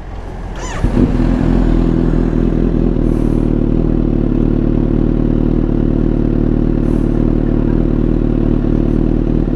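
A Kawasaki Ninja motorcycle starts with a clattering crank and settles into a loud, steady close-up engine drone, continuous with slight scraping noise and no talking.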